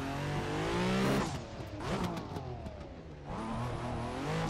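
A Nissan Pro Z drift car driven hard on mountain roads revs sharply, its engine rising and falling in quick bursts, loud and close.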